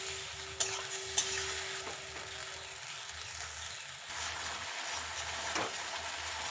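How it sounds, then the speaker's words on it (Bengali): Tomato, garlic and ginger paste frying with onions in a pan during banana-flower curry cooking, a soft continuous sizzle with occasional scraping stirs and a couple of sharp utensil clicks, fairly quiet with no talking. "এবার ভালো করে ভেজে নিতে হবে পেঁয়াজের সাথে, যাতে করে টমেটোর কাঁচা গন্ধটা চলে যায়"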